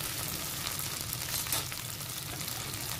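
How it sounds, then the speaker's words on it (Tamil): Masala-coated sardines fry in a pan with a steady, dense sizzle and crackle, close and continuous throughout with no talking. "மீன் எல்லாமே நல்லாவே ஃப்ரை ஆகியிருக்கு"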